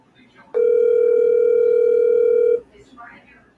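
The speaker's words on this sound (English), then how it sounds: "I hear the phone ringing" A steady electronic telephone tone holds for about two seconds, loud and close, with faint voices murmuring before and after it, in a radio studio.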